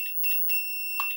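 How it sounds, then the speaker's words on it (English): Beeps from an FMS FCX24M Camel Trophy Land Rover Defender 90 RC transmitter while its steering is adjusted: two short tones, then a sustained long beep lasting about three-quarters of a second, clear and close. "Just press it until it does the long beep"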